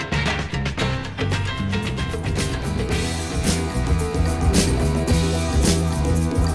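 A DJ mixer on its smooth crossfader setting blends two turntables, dense hip-hop music with a steady beat and bassline flowing continuously, loud and without pauses.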